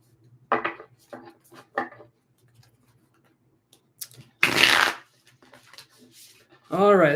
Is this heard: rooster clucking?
no